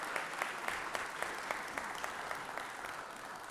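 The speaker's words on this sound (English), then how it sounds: "let's give these gentlemen behind me a round of applause real quick for everything they do" Applause for firefighters in the Georgia Senate chamber, a steady spread of many hands clapping at moderate distance, fairly quiet and even throughout with no voices over it.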